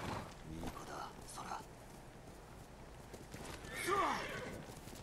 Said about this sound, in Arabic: نبغى ننادي الحصان. سهم يسار طبعا ينادي لنا الحصان.